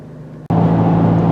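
A 2020 Toyota 4Runner TRD cruising on a highway, a loud steady broadband rumble of road and wind noise with a low engine drone that surges in abruptly after a brief quieter cabin moment.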